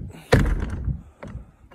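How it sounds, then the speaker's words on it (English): A door is shut against blowing wind with one loud, close thunk, followed by softer knocks and rattles as it settles. "Better shut the door."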